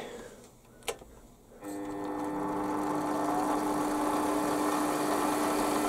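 A metal lathe spins up with a workpiece chucked for machining, settling into a steady hum with a clear whine, close and continuous after a brief clunk at the start, with no talk.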